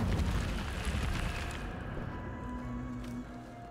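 Incendio fire spell cast in Hogwarts Legacy: a loud, rumbling burst of flame roars for about a second and a half, then fades as steady sustained tones carry on underneath.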